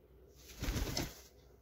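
A soft, low pigeon coo swells briefly and fades, close by and fairly quiet, with no talking.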